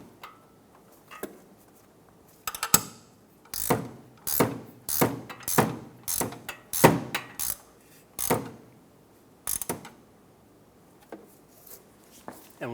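A ratchet wrench tightens the top transmission mount nut on a 2014-2019 Toyota Highlander, a run of sharp close clicking bursts with short pauses between strokes.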